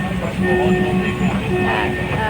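Train ride on the line from Ban Laem station to Mae Klong, a loud continuous rumble of the moving railcar with rhythmic rolling and clattering of wheels, no talking.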